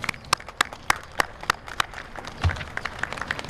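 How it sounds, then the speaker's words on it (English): An audience at a middle school honor society induction gives parents a sparse, thin round of applause, a few distinct claps ringing out in a loose rhythm and then trailing off. "I'd like you to acknowledge and give your parents a round of applause"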